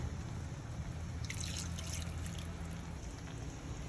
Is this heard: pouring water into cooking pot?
yes